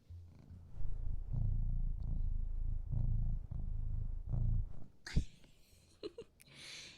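A cat purring outdoors, close and soft, in a rhythmic series of low rumbling breaths that rise and fall about five times, followed by a few brief rustles and handling sounds near the end.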